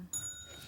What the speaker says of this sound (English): And the bell went.